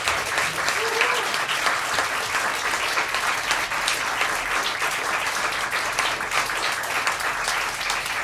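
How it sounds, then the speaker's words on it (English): Audience at New York's most historic cabaret bursting into loud, sustained applause, many hands clapping close and dense without letup, with a faint voice briefly rising under it early on. "round of applause"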